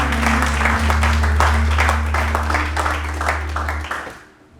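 A church congregation applauds steadily over a sustained low organ or keyboard drone, the clapping dense and fairly close before tapering off at the end.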